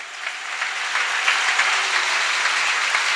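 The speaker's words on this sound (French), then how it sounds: "Acclamons très fort pour le roi des rois." A church congregation applauds and cheers for Jesus in a dense, steady wave of clapping that swells after the first second and holds loud to the end, with no single voice standing out.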